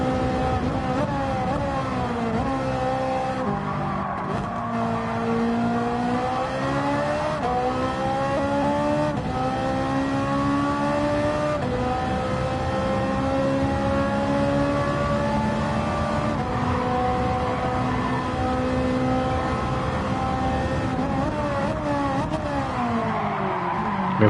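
A race car in Gran Turismo 7 drones steadily at high revs with shifting pitch, climbing and dropping through gear changes on an uphill stretch, loud and continuous with no talk over it.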